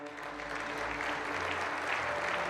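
Steady applause from a crowd in a video game, dense and continuous clapping with a low rumble beneath, no voices standing out.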